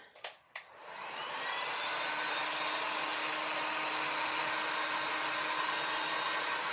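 A hair dryer blows over freshly painted wooden Christmas letters, starting after a couple of sharp clicks and then running as a steady loud close whoosh, no talk.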